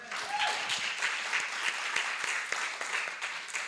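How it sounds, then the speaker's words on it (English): A church congregation claps through a Sunday service, sustained, dense applause with scattered sharp claps, loud and close, steady from start to finish with no talk over it. "I think that deserves another round of applause"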